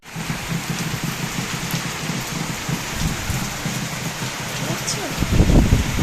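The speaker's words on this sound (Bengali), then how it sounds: "চলো বৃষ্টিটা তোমাদের দেখাই, যা গরম পড়েছিল এই বৃষ্টিটা দরকার ছিল, প্রচণ্ড বৃষ্টি, প্রচণ্ড।" Heavy rain in hot weather pours steadily onto a house and its balcony, a dense, close, unbroken hiss of drops that swells slightly louder near the end.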